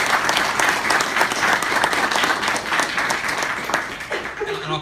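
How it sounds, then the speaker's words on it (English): An audience at a county disabilities breakfast gives a hearty round of applause, thick continuous clapping that stays loud and then starts to thin out, with faint voices near the end. "Give them a round of applause."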